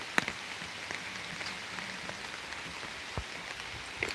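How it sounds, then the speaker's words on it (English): Steady rain patters on a surface, a soft continuous hiss with a few heavier drops standing out, no voices. "Rain wash out the breakfast."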